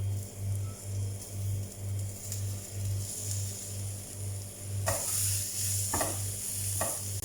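Fenugreek leaves are fried on high flame with a steady sizzle, while a regular low hum pulses underneath. Halfway through, the hiss grows brighter, and a few sharp scrapes and knocks follow as the pan is stirred.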